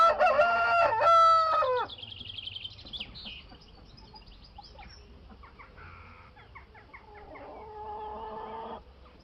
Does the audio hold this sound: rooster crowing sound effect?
yes